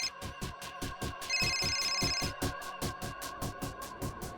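A telephone rings indoors in a steady, rapid repeating pattern of electronic pulses, moderately loud and alone without talk.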